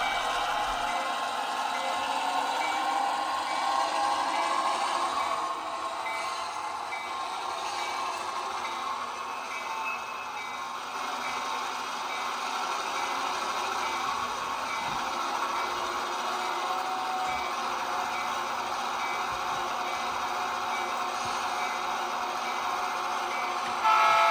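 A small train runs continuously with a steady whirring rumble and a faint clatter, holding an even level throughout with no voices.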